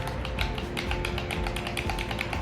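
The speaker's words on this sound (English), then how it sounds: "Let's check out how these trigger buttons sound." Rapid light plastic clicks of wireless game controller trigger buttons repeat steadily and close up, over a low background hum, with no talking.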